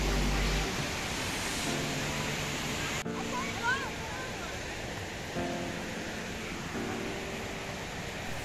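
Rushing water from Vickery Creek Falls at Roswell Mill near Alpharetta makes a steady, broad wash of noise, with scattered voices and chatter over it.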